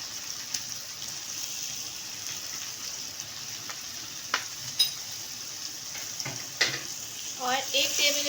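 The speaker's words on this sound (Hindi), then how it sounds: "मैंने इसको बिल्कुल सही तरीके से फ्राई कर लिया है" Beef steak stir-frying with ginger garlic paste gives a low steady sizzle, broken by scattered scrapes and clinks of stirring that grow busier toward the end, with no talk.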